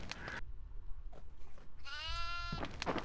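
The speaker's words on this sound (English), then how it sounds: "I found a goat" A goat in the horror video game Devour gives a clear, wavering bleat near the middle, set among muffled thumps and low game ambience, with short noisy bursts before and after.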